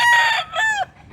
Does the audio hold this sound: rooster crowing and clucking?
yes